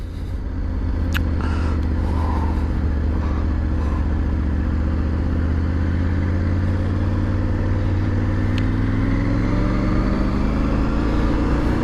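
A Triumph Tiger 900 GT Pro on the move, its engine a steady loud drone under wind rush, with a few gliding pitch changes as it works through the gears and a couple of sharp clicks.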